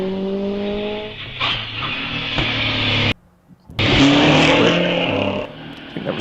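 A vintage racing car running a little flat and not on all cylinders climbs the Wiscombe Park hillclimb, its loud engine roaring and fading with gear changes and a brief gap, heard fairly close.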